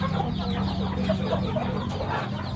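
Hens clucking steadily at a Thai poultry farm, a mother hen sitting on her eggs, with a continuous low murmur of fowl sounds close by and no speech.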